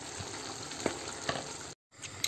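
Pasta sauce bubbling on a gas stove, a soft steady sizzle with a few louder pops and stirring knocks, broken by a short silent gap, no voices.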